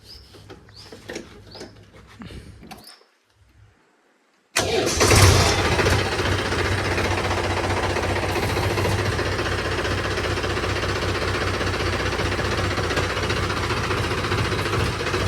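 A tractor with worn front wheel bearings, parked among chirping birds, falls silent, then its engine cranks and catches with a loud burst before settling into a steady, close, rough diesel idle.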